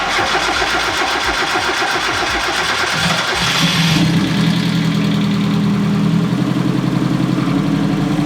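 Turbocharged Mazda Miata engine starting: a loud rapid cranking for about four seconds, then the engine catches and settles into a rough, steady idle close by.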